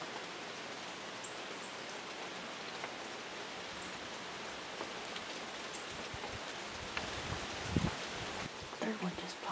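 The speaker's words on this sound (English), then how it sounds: "The rain's kind of slowed up now." Rain falling in the woods during an October hunt: a soft, steady patter filling the whole stretch at low level, with a few faint rustles near the end.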